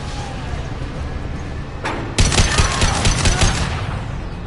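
Gunfire in the video game Mass Effect 2: a short burst of rapid, loud shots erupts after a quieter lead-in, firing in a fast stuttering volley for over a second before easing off.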